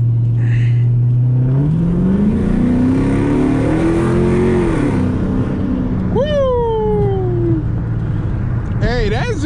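A car with a 5.7 engine accelerates hard on a street during a drag race. Its engine note climbs loudly up close over several seconds, a high squealing whine follows, and voices can be heard.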